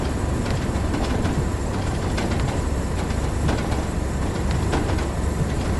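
Tubeliner train on a Tees Valley Line diversion in Train Sim World, coasting uphill: a steady, loud rolling rumble and hiss with scattered faint rail clicks, continuous throughout and without voices.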